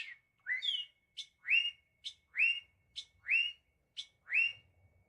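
Bright whistled bird calls repeat in a steady rhythm, about eight clear notes with short silences between them, heard alone and close against a quiet background.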